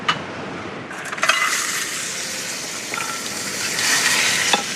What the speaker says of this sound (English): Putting it into the pan. Should do a nice sizzle.